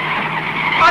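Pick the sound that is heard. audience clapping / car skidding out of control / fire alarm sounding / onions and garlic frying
car skidding out of control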